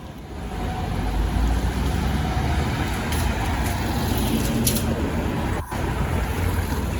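A city bus travelling along a road in Stockholm in winter, with a steady, loud engine and road rumble running throughout, a brief dip near the end, and no talk.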